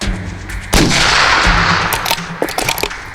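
A single loud Steyr SSG-69 sniper rifle shot cracks sharply and rolls into a long echoing decay, followed by a few metallic clicks of the bolt.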